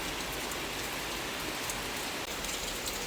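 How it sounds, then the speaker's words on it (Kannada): Rain falls in a steady, dense hiss of drops on surfaces, even and continuous throughout with no voices. "ಹಾಗೆ ಮಳೆ ಬಂದಿದೆ."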